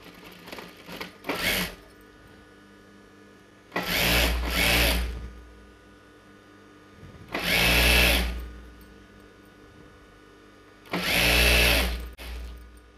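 A sewing machine stitches the hem of a Patiala pant in four separate loud bursts, each a few seconds long, with quiet pauses between them.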